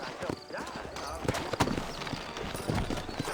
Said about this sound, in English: You ain't gonna find sturdier horses than these in all of New Orleans.